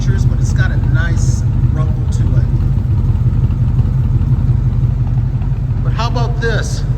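The 1951 Ford Victoria's engine idles with a steady low rumble through its true dual exhaust, constant and fairly loud beneath someone talking.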